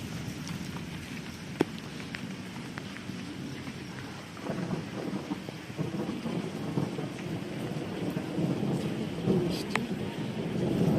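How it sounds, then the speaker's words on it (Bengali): Heavy rain pours in a steady, close hiss onto surfaces outdoors, with low rolls of thunder rumbling beneath it. The rain builds slightly louder toward the end. "বৃষ্টি"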